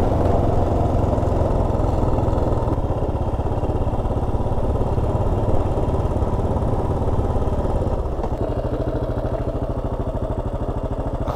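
A Yamaha XT 600 motorcycle engine runs steadily and loudly nearby, with a constant low rumble and no talking.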